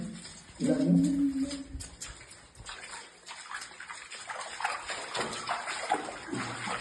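Steady trickling and running water inside a cave with a hollow, echoing quality, a brief voice near the start, continuous and moderately faint.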